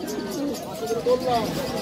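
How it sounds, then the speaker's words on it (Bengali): Pigeons coo repeatedly at a busy pigeon market, soft rolling calls rising over steady crowd babble and nearby chatter. "দেখো কত সুন্দর ডাকছে, দেখো খালি পায়রাটা"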